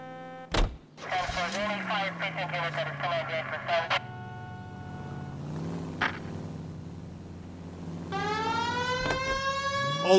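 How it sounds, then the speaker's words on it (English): Police car siren in L.A. Noire, a wailing tone that cycles up and down, beginning with a short blip, fading under engine noise, then returning loud toward the end. "We have a siren."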